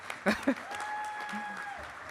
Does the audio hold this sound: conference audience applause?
yes